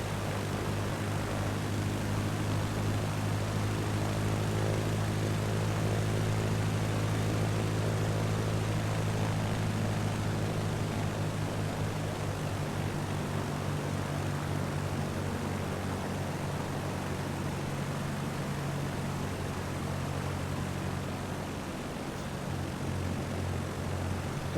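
Propeller engine drone of a Piper L-4 light plane in Microsoft Flight Simulator 2020, a steady loud hum with stable harmonic tones and airy noise held throughout the local flight, no voices.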